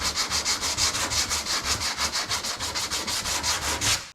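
Steady back-and-forth sanding of body filler on a 7th-generation Honda Civic, loud and close, with quick even strokes in a continuous rhythm and no talking.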